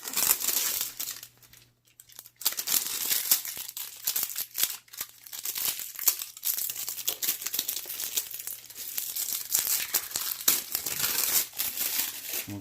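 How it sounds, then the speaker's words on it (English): Plastic packaging cover being torn open and crumpled up close, with bursts of crinkling and tearing that come in irregular rushes, pause briefly, then continue through to the end. "Let's open the plastic cover."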